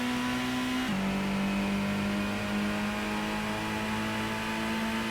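A car engine in the PlayStation Gran Turismo racing game holds a steady, droning whine under acceleration, dipping slightly in pitch after a gear shift and then humming on evenly without any voices.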